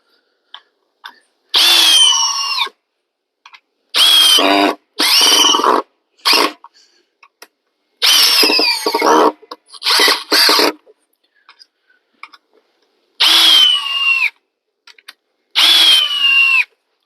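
A Milwaukee M12 2402 drill on speed 2 with a 2.5 high output battery drives 3-inch drywall screws, producing loud, close whirring bursts of about a second each, separated by short silent pauses.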